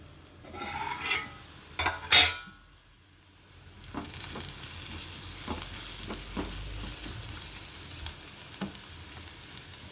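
Chopped onions sizzle and fry in a covered pan for a tamarind-leaf chana dal curry. A few sharp clatters and scrapes come early on, then a steady soft sizzle continues alone at close range.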